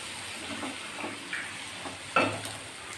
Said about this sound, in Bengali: এবার আমি ভালো করে ফুটতে দেব